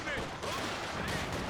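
Small-arms fire in the real-time strategy game Company of Heroes 2, a brief dense burst of rattling shots mixed into steady battle noise.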